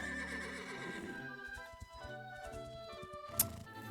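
A horse whinnies loudly and at length in the video game Echoes of Wisdom, its harmonic cry wavering and fading, with a few faint hoof clops and a sharp click near the end.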